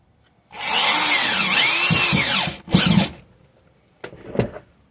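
Power drill boring a screw hole into wood, a loud close whine for about two seconds, then a short second burst and a brief final spin-up.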